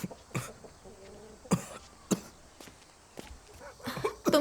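A man who has been ill for days coughs several times in short, sharp bursts spread across the moment, fairly close, with faint movement and footsteps between coughs and no speech.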